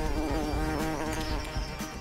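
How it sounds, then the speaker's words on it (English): Angry bees buzz in a steady, dense drone around a beehive, loud and continuous with no voices. "We better go now. Bees are getting angry."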